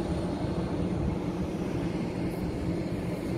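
An airplane at Vienna International Airport makes a steady, broad engine roar that holds for a few seconds, and no one talks.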